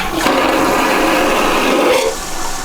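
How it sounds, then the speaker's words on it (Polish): A boat toilet, like an airplane one, flushes with a loud close whoosh and gurgling rush of water that cuts off sharply near the end, leaving a quieter hiss. "spłuczka jak w samolocie"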